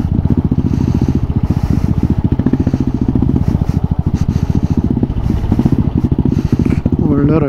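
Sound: motorcycle riding on off-road forest trail at night

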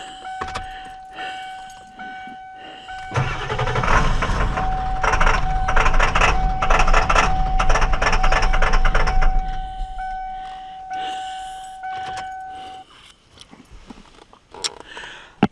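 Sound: Ford 7.3L Powerstroke diesel truck engine starting and running

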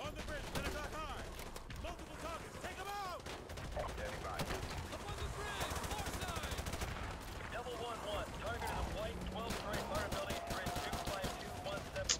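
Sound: gunfire in video game Modern Warfare 2 Campaign Remastered

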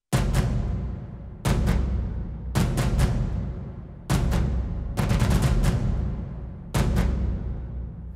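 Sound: sampled tupan drums, Tomb Raider score

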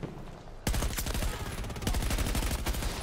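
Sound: gunfire from video game Battlefield 2042

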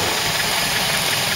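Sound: Land Rover Series engine idling with SU carburettor

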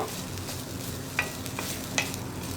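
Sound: grated coconut being stirred and fried in a pan

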